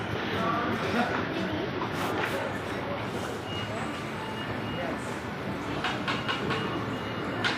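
Metro train rumbling and clattering at Rabindra Sadan metro station in Kolkata, a steady mid-distance roar with faint rail clicks, while a voice talks quietly over it.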